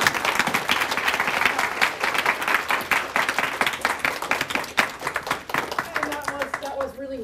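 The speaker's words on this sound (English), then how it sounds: "So first, let's give a warm round of applause." An audience at a lecture applauds, with a dense, steady wash of many hands clapping throughout, fading slightly near the end as a voice begins to speak.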